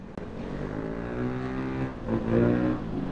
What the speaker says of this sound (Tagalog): Naka JBT pipe yung PCX 160 niya, oh.